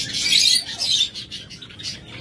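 A flock of budgerigars chirps and twitters close by in quick, bright bursts that overlap one another, loud and busy with no talk.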